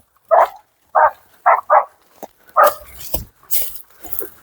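A hunting dog bays in short, loud bursts at a hooked wild boar of about 70 kilos, with rough grunts and scuffling between the barks in a close outdoor struggle.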